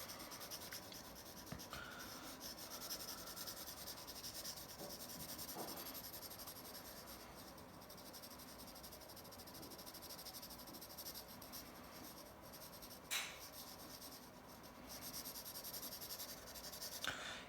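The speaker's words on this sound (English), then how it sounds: "I'm going to start by pushing very soft and darkening my shading as I go." Soft graphite pencil rubbing across textured drawing paper, a steady, faint scratchy hiss that continues throughout with a few brief louder strokes, no voices.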